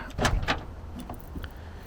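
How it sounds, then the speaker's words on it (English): Door of a Ferrari SP3 hypercar with an exposed carbon roof opening: a couple of close mechanical clicks and a thunk of the latch release, followed by a faint soft settling sound. "If we come over here, we open the door."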